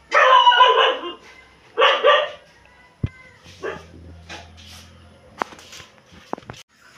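Dogs at a rural hut bark in two loud bursts close by, followed by quieter whimpers, yips, scattered footsteps and sharp knocks, with the dogs still faintly active in the background.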